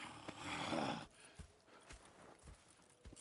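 Horses walk in the video game Red Dead Redemption 2, with hooves clip-clopping at an uneven pace after a brief burst of louder rustling noise. The hooves sound moderately close and fairly soft.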